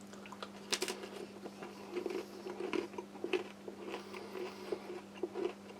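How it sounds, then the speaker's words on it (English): Crisp bites and chewing crunches on a plain salt cracker topped with a little blue cheese from a French Army RCIR ration menu, a run of close, quiet crunches repeating over several seconds with no talk. "Try a little bit on the salt cracker."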